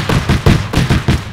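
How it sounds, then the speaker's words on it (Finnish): An anti-aircraft gun fires in the military video game ARMA 3, a rapid series of about six heavy booming shots in an even rhythm, loud and close, with no voices. "Tähän ampuu IT-tykki, hei."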